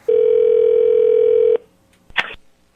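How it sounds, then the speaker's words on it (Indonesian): Steady electronic dial tone from the emergency call system of a Volvo car, a single sustained tone lasting about a second and a half, then a brief burst of a higher tone, loud and close. "Nih, Volvo emergency call. Ya. Lo telepon."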